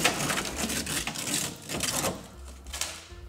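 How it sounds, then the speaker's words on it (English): Plastic interior parts being worked on inside a Cadillac Deville as an air duct hose is pulled free, giving a series of faint scraping rustles, creaks and small clicks close by, with no talk. "First, let me remove this air duct hose."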